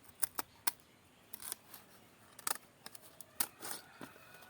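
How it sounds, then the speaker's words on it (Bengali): Scissors cutting a leaf for rolling a bidi, a series of short, sharp snips spaced irregularly, close and fairly faint against a quiet background. "এইভাবে কেটে নেবো পাতাটা এভাবে তো দেখিয়ে দেখো কিভাবে কাটছি"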